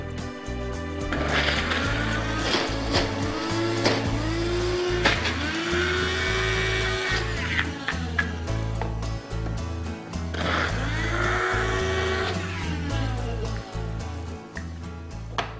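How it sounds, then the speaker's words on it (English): A blender whirs loudly while blending hummus ingredients with dates, the motor surging and dipping in pitch as the thick mixture churns, steady and close with no talking. "So I put all the ingredients inside the blender."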